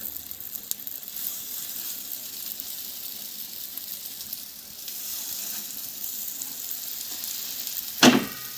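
Mutton keema patties shallow-fry in a ladle of oil in an iron pan, a steady close sizzle holding throughout, with a sharp metallic clink near the end.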